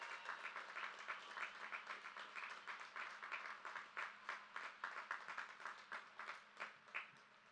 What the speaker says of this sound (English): Let's give a big round of applause to all our valedictorians.